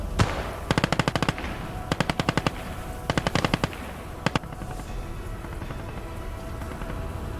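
Bursts of machine-gun fire in the World War II video game Gates of Hell: several rapid, evenly spaced volleys crack out in short groups, fairly loud against a quieter battlefield rumble.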